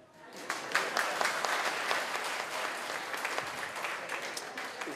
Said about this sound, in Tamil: இந்த டயர்டாயிட்ட கைதட்டுங்க.